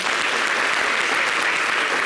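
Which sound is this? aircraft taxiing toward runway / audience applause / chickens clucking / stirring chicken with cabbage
audience applause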